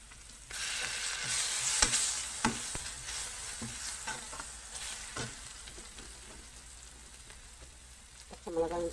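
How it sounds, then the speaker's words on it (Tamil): Onions frying with ginger garlic paste in a pan for Tamil fish curry, a soft steady sizzle with repeated scraping stirs, quiet and close, with a few brief words spoken. "இதில் இஞ்சி பூண்டு பேஸ்ட் போட்டுடலாம்."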